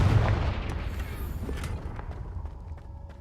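A Confringo blasting spell bursts in Hogwarts Legacy, a loud booming explosion at the onset that rolls into a decaying rumble with faint crackle over about three seconds, no voices.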